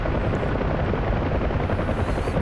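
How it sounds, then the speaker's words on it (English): Apache helicopter in the DCS combat flight simulator, a steady loud rotor-and-turbine drone that fills the whole stretch without letup. "it's a very fun helicopter"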